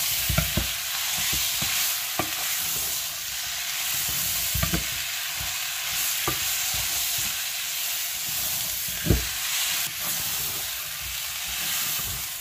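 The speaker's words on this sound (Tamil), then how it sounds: "சேர்த்து நல்ல ஒருக்கா மிக்ஸ் பண்ணிடுங்க." Plantain peel sambal being stirred in a hot pan, Jaffna style, with a steady scraping stir over a soft continuous sizzle and occasional louder spoon knocks against the pan.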